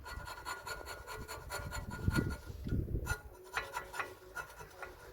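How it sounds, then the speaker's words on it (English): A screwdriver scrapes rust and brake dust off an Audi brake carrier during a pad change, making a close, repeated rasping scrape in uneven strokes that grows louder midway, with no speech. "So all you're going to do now is clean the carrier up, just with a screwdriver."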